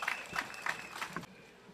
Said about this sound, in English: Let's welcome him with a lusty round of applause.